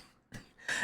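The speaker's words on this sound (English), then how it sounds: "Sorry for the coughing." A person gives two quick coughs close by, quiet and short, the second harsher than the first.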